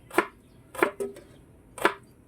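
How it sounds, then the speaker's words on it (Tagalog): A knife chopping onion on a board: four crisp, separate cuts at uneven intervals, close and clear against a quiet background, with no voices. "pag nagagayat ako ng sibuyas, hindi ko sinasagad para hindi makalat"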